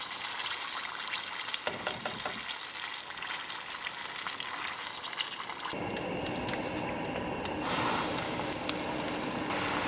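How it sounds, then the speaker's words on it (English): Chicken karaage pieces fry in hot oil in small batches, giving a steady, dense sizzle and crackle that stays loud and close throughout, with no talking. "We're going to be frying these in small batches"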